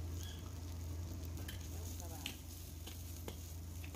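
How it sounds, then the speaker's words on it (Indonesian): Garlic, chili and spring onion sautéing in a pan, a quiet, even sizzle with faint scattered stirring ticks over a low background hum. "Kita tumis semuanya sampai layu dan tercampur merata."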